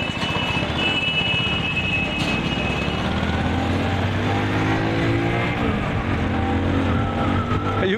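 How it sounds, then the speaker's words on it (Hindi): A steady, loud engine drone with continuous exhaust rumble from a 2023 Hero HF Deluxe motorcycle being ridden; the pitch rises and falls slightly throughout, with no voices. "एग्जॉस्ट नोट का साउंड बहुत बढ़िया है इस बाइक का"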